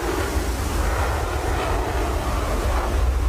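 Jet aircraft engines in the DCS combat flight game roar continuously at close range, a broad, steady rushing thrust with no pauses and no talk over it.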